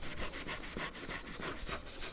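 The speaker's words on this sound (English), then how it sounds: "You do have to give it a good scrub sometimes to get a bit of tar and stuff like that in there" Scrubbing a Suzuki Wagon R wheel to remove tar, a steady rhythmic rubbing with repeated back-and-forth strokes, close and fairly loud, no voices.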